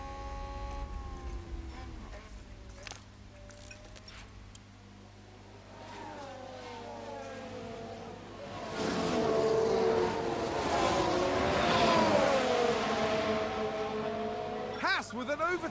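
F1 race cars pass and overtake at Imola in F1 Manager 22 on PS5, with engine whines rising and falling in pitch, swelling louder mid-clip as cars sweep by, under a commentator's voice.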